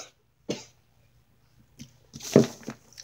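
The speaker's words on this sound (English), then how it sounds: "Sorry for that coughing." Several coughs from a person who is sick, a sharp burst near the start and a louder cluster of rough coughs toward the end, close to the microphone in a quiet room.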